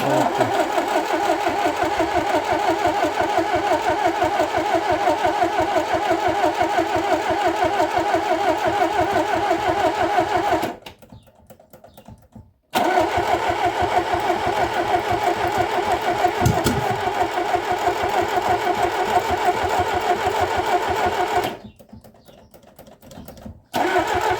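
A car engine on its first start runs loudly and evenly at a mid pitch, cuts out abruptly, then starts up again; it later drops out once more before restarting.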